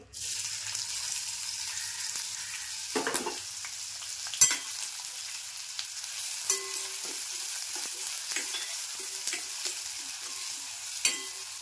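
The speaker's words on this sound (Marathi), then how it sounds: "तेल तापलंय, आता कांदा टाकते" Onion hits hot oil with a loud sizzle that settles into a steady frying hiss, with occasional clinks and scrapes of a spoon stirring.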